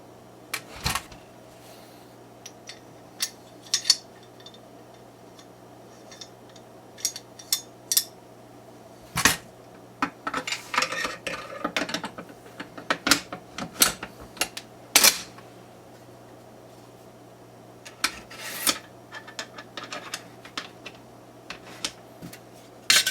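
Century Arms Centurian 39 AK sporter rifle being put together, with scattered sharp metallic clicks, snaps and rattles of parts fitting, some in quick clusters, against a quiet steady hum.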